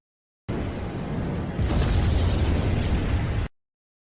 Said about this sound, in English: Instantly activating a top-grade magical item and firing off 10 fireballs at once.